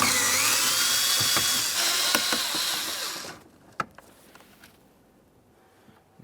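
A power tool spins out a 7mm-headed mounting screw near the glove box of a 2013-2020 Ford Fusion: a loud, close, steady whir for about three seconds, then it stops, leaving a few small clicks and handling knocks.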